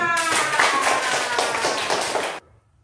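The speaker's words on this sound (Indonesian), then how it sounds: "Tepuk tangan dulu untuk kelompok 3." In a classroom, students applaud a group after its presentation, brisk close clapping from a small crowd that stops abruptly, leaving quiet room tone.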